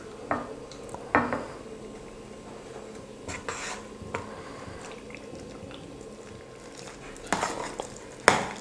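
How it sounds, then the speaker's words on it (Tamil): Rice flour being stirred little by little into hot water in a pot over a low stove flame to make kozhukattai dough; scattered utensil clinks and scraping strokes against the pot, close and moderately loud, with no talking. "இப்போ ஸ்டவ் கம்மியாக வச்சுட்டு மாவு கொஞ்சம் கொஞ்சமாக போட்டு கலரிக்கலாம்."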